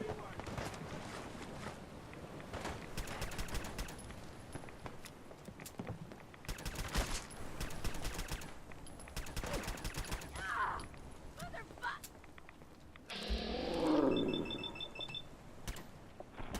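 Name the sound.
gunfire in the video game Fallout 4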